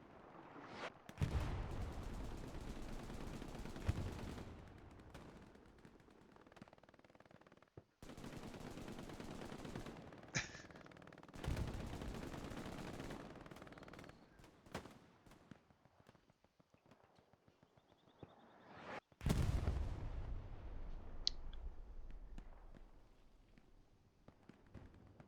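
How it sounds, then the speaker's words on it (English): Artillery barrage in the World War II shooter Hell Let Loose: loud, heavy blasts and rolling gunfire in several bursts, with sharp impacts and long rumbling tails, gaps of quiet between volleys and no talk. "we've got some decent artillery coming down"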